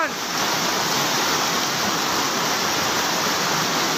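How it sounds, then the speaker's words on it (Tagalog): Rushing floodwater in Albay during Typhoon Kristine, a dense, continuous roar of churning water that stays loud and steady throughout without pause. "lalong lumakas ang baha"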